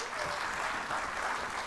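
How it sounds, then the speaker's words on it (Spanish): A church congregation applauds a visiting missionary, with steady, dense clapping from a crowd filling the whole short moment. "Vamos a darle un fuerte aplauso"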